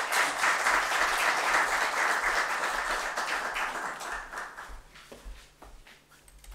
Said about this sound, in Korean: 자, 우리 박수로 한번 환영해 주십시오.